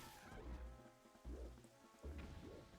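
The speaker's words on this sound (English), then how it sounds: "look, it just suddenly started raining" Rain falls in a Touhou fan video game as a soft, steady hiss, with faint low rumbles and game sounds beneath it at a quiet level.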